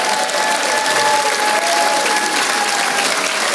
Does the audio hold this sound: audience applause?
yes